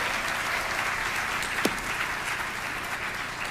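Audience clapping at an awards ceremony for staff and faculty of the year, a steady crowd of applause at moderate distance, with one brief sharp sound in the middle.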